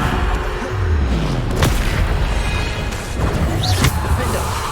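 Bombarda blasting spell explosions in the video game Hogwarts Legacy: a sustained, loud rumbling boom with a couple of sharper cracking hits layered through it.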